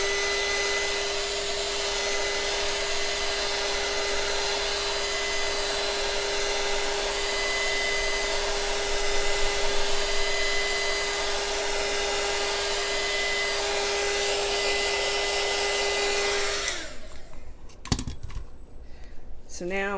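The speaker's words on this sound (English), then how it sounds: "So I always been going over it with my heat gun." A heat gun blows steadily over resin on a yarn-wrapped tumbler, a loud continuous whooshing hiss with a constant whine that runs alone for about sixteen seconds before cutting off, followed by a few soft handling knocks.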